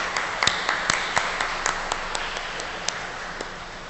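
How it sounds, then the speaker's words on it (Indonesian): A church congregation applauds newly baptized adults at a Sunday Mass in a parish in Bintaro Jaya, a continuous patter of many hands with a few sharp individual claps standing out near and loud. "Kita tepuk tangan buat saudara-saudari kita."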